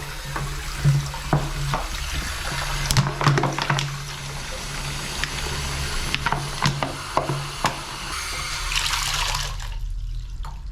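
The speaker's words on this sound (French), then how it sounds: "Il y a toujours un robinet." Water runs steadily from an outdoor cemetery tap, a continuous splashing hiss with occasional louder spatters, close by and loud, ending in a brief quieter stretch.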